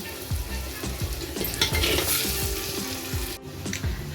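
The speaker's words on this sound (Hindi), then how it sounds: "अदरक, लहसुन, हरी मिर्च, गरम मसाले, सभी कुछ अच्छे से भुन चुके हैं।" Ginger, garlic, green chili and garam masala fry with onions, giving a crackling sizzle broken up by spoon knocks and scrapes against the pan, with no voices.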